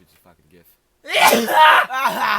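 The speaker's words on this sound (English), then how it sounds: "Look at that sneeze." A single loud sneeze bursts out close by, followed right after by a second voiced burst, with a few faint quiet sounds just before; people talk in the clip.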